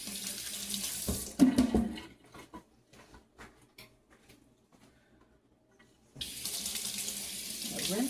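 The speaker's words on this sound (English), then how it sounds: "I'll rinse off my whisk that I just used." Tap water runs into a sink while a whisk used for chocolate cake batter is rinsed, a steady close splashing that stops for several seconds of near silence with faint clicks, then resumes.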